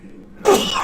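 A single loud, close sneeze that bursts out abruptly after a quiet moment and trails off into breathy noise.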